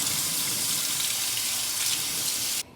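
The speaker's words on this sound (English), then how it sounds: "I'm going to rinse some black beans." Black beans being rinsed under a running kitchen tap, a steady loud rush of water that fills nearly the whole stretch and then cuts off abruptly at the end.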